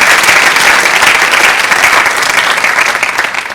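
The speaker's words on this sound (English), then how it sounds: "Give your parents a round of applause." Graduation audience at an 8th grade rising ceremony applauding, dense steady clapping that fills the room at full loudness and eases slightly toward the end.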